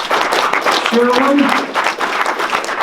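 Applause from a workplace crowd at Scentsy's 2019 IT Movember celebration, honoring the participants; clapping runs steadily underneath a speaker's voice for the whole stretch.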